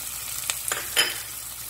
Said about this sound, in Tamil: நல்லா வெங்காயம் உங்களுக்கு ஃப்ரை ஆயிடுச்சு